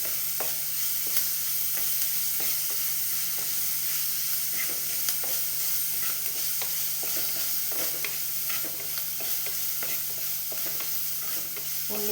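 Onions sautéing in a pan for a Kerala-style vala fish curry, a steady close sizzle and hiss with repeated stirring scrapes throughout, no talking.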